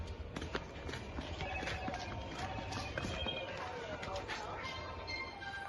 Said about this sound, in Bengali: দাদা ভাই ঘোড়াটাকে বার করছে একটু বাইরে।